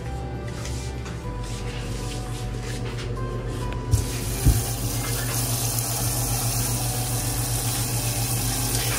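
Hot water runs steadily from a tap, poured over rice set to soak, a constant close splashing hiss with a couple of brief knocks partway through.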